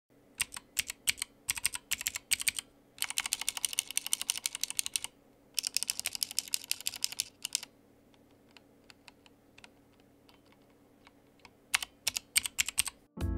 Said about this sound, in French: j'ai des switches SteelSeries Blue qui sont du coup des switches clicky que je vais vous laisser écouter tout de suite